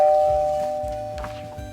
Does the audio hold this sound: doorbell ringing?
yes